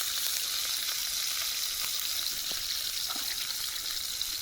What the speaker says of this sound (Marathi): अंडा भुर्जीसाठी हे सगळं साहित्य घेऊन आलेलो आहे। तेल टाकतो पहिला।